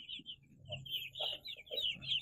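Eight-day-old broiler chicks cluck and squawk in short bursts close by, with a low hum underneath and no talking.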